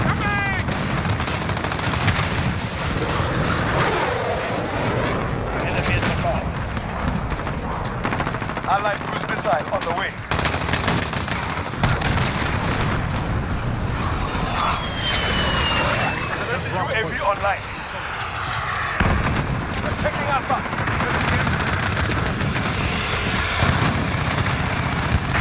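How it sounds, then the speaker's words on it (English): A friendly gunship fires in Call of Duty Modern Warfare (2019), with loud sustained bursts of gunfire and aircraft drone throughout, while a player's voice talks over the action. "Friendly gunship in the AO."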